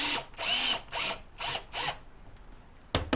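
Power drill driving Torx-type head bolts into a wooden tapering jig, five short whirring bursts in a row, close and loud, followed by a brief final spin.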